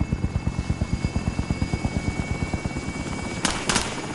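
A video game helicopter arriving for an extraction, its rotor thumping in a steady fast rhythm at moderate distance, with brief sharp bursts near the end.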